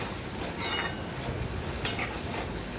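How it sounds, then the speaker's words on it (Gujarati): Tomatoes sautéing with onion and garlic in a pan give off a steady, close sizzle throughout, with occasional soft stirring scrapes and a light clink near the end. "તો ટમેટાને ડુંગળી અને લસણ જોડે સાતળી લઈશું"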